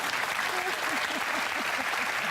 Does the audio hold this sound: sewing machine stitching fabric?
no